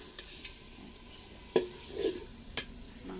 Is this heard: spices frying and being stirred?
yes